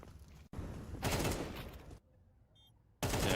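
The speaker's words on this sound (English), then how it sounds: "good shooting here from fl0m" Gunfire in a Counter-Strike match, loud bursts of rapid shots in two blocks separated by a near-silent gap with faint electronic tones, ending in another sudden loud burst.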